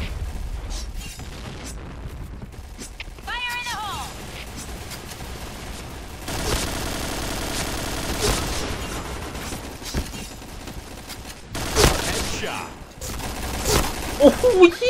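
Gunfire in the Point Blank online shooter game, with bursts and single shots spread across the scene, some loud and close, others farther off, mixed with game effects and people talking throughout.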